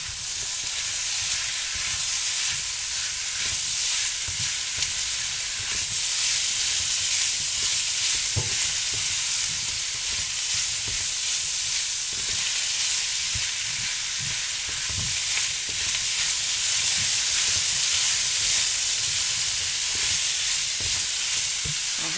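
Garlic frying in a hot pan for beef lo mein, a constant loud sizzle with occasional stirring scrapes and light taps, close and steady throughout with no talk.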